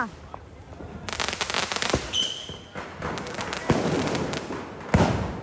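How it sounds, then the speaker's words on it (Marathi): Sharp firecracker bangs burst at irregular intervals during Bhaubeej, several loud cracks with crackling and a whistling streak, amid background chatter. "चलो आता जाऊया फटाके फोडायला"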